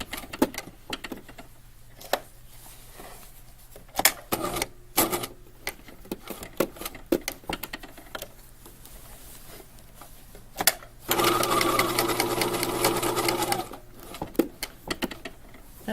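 Sewing machine stitching the pocket of a canvas tote bag, mostly sporadic short clicks and taps, then a loud, steady burst of continuous stitching for a few seconds before stopping.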